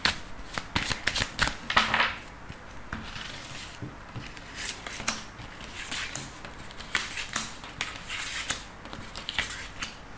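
A deck of cards is shuffled up close for a card reading, with a series of quick riffling and sliding bursts, soft and crisp, repeating irregularly with no talk over it.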